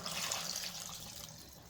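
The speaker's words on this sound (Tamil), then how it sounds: "2 நிமிஷம் வதங்கின பின்னாடி ஒரு சொம்பு தண்ணி ஊற்றிக்கலாம்" Water is poured into a cooking pan while making chicken pepper gravy, a continuous splashing gush heard close and fairly quiet.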